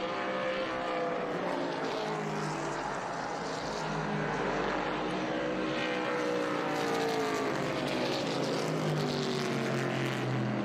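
V8 race cars of an SVRA and Trans Am field roaring past on track at WeatherTech Raceway Laguna Seca, a continuous loud engine drone with several cars passing in a pack and rising and falling pitch.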